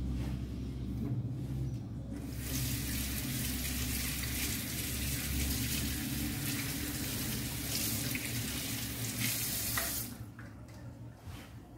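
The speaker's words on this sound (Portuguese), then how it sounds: "Passei uma aguinha nele, só pra retirar aqui os resíduos" Tap water runs steadily over a hand mixer as cream and mint residue are rinsed off, a loud continuous splashing that fills most of the stretch before cutting off near the end.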